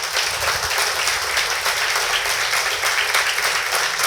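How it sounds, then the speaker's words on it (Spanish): A church congregation claps steadily during a Spanish-language Sunday service, a dense continuous wash of applause at close range with no talking over it. "Dele palmas al Rey de Gloria."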